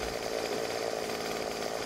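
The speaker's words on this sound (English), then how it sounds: "Chainsaw is the life." A chainsaw running in the zombie survival game 7 Days To Die, a loud continuous buzzing engine roar that holds steady throughout with no voices.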